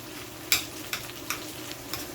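Corned beef being pushed and spread around a hot pan with a spoon, a constant soft sizzle broken by several light scraping taps spaced roughly half a second apart, with no talk.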